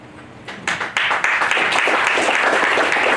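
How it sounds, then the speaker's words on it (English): Applause from a crowd at a wells dedication ceremony swells in after a quiet start, becoming dense, steady clapping that fills the room. "So we want to give a round of applause for them."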